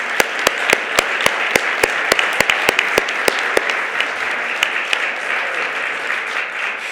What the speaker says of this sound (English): Let's give another big round of applause to all of our honorees.